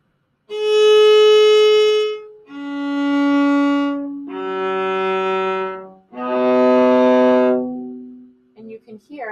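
Four long, sustained bowed viola notes in sequence, one on each string, each rich and resonant with a mellow low tone, followed by a few short choppy strokes at the end.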